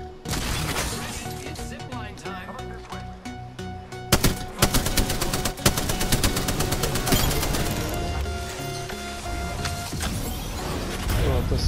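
Gunfire from the video game Apex Legends crackles in rapid bursts and dense volleys, loud and close, with sharp impacts mixed into continuous in-game action.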